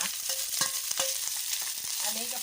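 Rice tossed with shrimp paste and golden fried garlic being stir-fried in a pan, steady sizzling with quick scraping and tapping strokes of a spatula close by.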